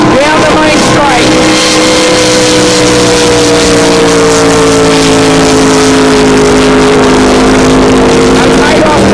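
Racing powerboats at a Northern Rivers powerboat club event roar down the main straight, a loud sustained engine drone with steady harmonic whine that shifts slightly in pitch, continuous throughout with a commentator speaking over it.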